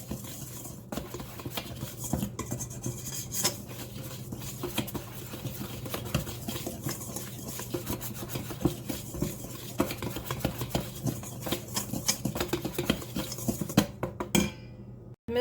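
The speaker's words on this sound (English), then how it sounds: "So we're just going to whisk this together." A whisk stirs flour, baking powder and salt together in a bowl for pineapple upside-down cake, giving a steady, rapid scratchy patter with faint clinks against the bowl, continuous and fairly quiet with no talking.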